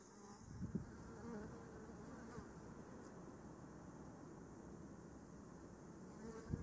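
Honeybees buzzing as a faint, steady insect drone outdoors, a soft continuous hum with a few small knocks near the start and end.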